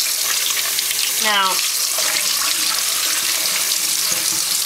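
A tap runs steadily into a sink while tie-dyed fabric is rinsed, a continuous loud rush of water with a brief sweeping squeak and a short spoken word.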